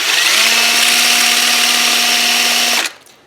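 A flapper sander grinds the outside bevel of a coin ring in a loud, steady whine with stable harmonic tones for almost three seconds, then cuts off and winds down.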